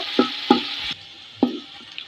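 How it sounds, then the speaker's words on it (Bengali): Chopped onion fries in oil as it is stirred, three distinct scraping clatters of a spoon in the pan over a quiet sizzle. "নেড়ে চেড়ে পেঁয়াজটা লাল করে নেব।"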